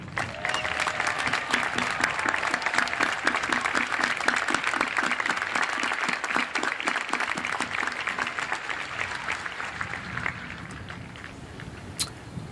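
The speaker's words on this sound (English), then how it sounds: "Please stand for a round of applause." A graduation audience at a high school commencement applauds in sustained, dense clapping for about ten seconds. The applause fills a large hall before tapering off.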